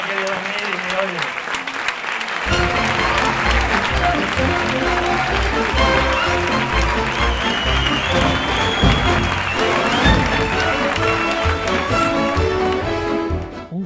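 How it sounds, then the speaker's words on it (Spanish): An audience at a performance by a magician applauds loudly and steadily, with music and voices mixed in throughout. "Fuerte el aplauso también para Flor"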